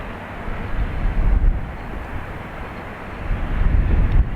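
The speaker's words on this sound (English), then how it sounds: "EI101 off to Newark, A321 Neo." An Airbus A321neo jet departing on a flight to Newark gives a steady, loud, broad engine roar that swells slightly toward the end, with no voices.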